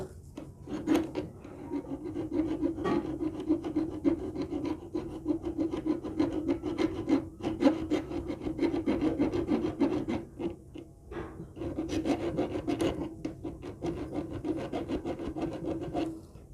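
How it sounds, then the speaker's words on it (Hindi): A file rasps steadily against a stuck metal part of a sewing machine, making continuous close grinding strokes with a few brief pauses. "यहाँ पर फंस रहा है, हम इसको थोड़ा सा घिस लेते हैं"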